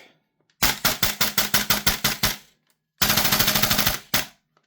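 A gas blowback airsoft rifle fed from a Guns Modify version 1 PMag fires two close, loud bursts, the first about eleven sharp shots and the second a faster run of about eight, then one final single shot.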